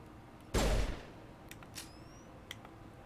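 Gunfire in a video game, fired into the Citadel: one loud, close burst of shots, then a few fainter sharp pops and pings trailing off.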